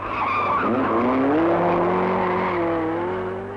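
A 1971 Opel rally car skids on a Circuit of Ireland rally stage, its loud tire squeal rising in pitch over a revving engine in one sustained slide that fades slightly at the end.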